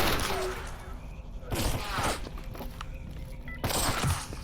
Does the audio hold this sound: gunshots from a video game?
yes